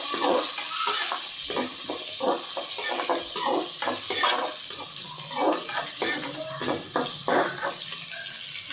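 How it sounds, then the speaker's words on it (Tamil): A spoon stirs small shallots in a cooking pot for a tamarind kuzhambu, giving repeated close scraping and sizzling strokes in an irregular rhythm, with no talking. "நல்லா கலந்து விட்டுக்கோங்க."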